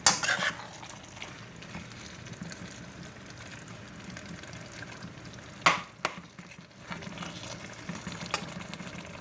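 Cassava and salt fish bubbling in a pan, a soft continuous simmering sizzle with a few louder clinks and stirring knocks near the start and midway.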